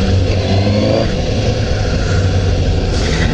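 A Suzuki GSX-S750 motorcycle on a test ride at Spa Nishiura Motor Park gives a loud, close engine roar that rises and holds through a brief rev, dense and continuous, with no talking.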